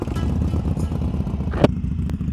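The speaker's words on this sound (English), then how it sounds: "as I warm up my bike" Harley-Davidson motorcycles warming up give a close, steady low engine rumble with a lumpy idle pulse, plus a brief clank partway through and no talking.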